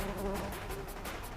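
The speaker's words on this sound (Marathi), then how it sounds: "आणि कानातून मधमाशीचा आवाज ऐकू येतोय." A bee buzzes steadily in a brief, close burst with a pulsing drone and no voices.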